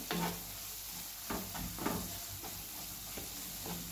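Masala with green chili frying in oil for Maharashtrian khara vangi (spiced eggplant), a steady low sizzle broken by repeated scraping stirs of a spoon against the pan, close and moderately quiet throughout.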